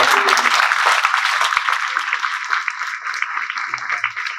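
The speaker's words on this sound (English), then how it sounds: "So give yourselves a big round of applause." An audience at a film premiere for Aphasia applauds. Dense, loud clapping fills the space and slowly thins out toward the end.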